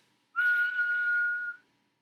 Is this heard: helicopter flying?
no